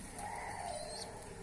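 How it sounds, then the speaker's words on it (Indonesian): A young ornamental pigeon gives faint, soft chirping calls, a thin high peeping held over a quiet background for a moment. "Suaranya juga masih cuit-cuit."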